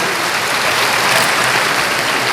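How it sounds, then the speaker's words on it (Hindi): Sustained audience applause at a ceremony in Bihar, a dense, even wash of clapping at steady loudness from start to finish with no speech over it. "जोरदार तालियों से इस अवसर का आप स्वागत करें।"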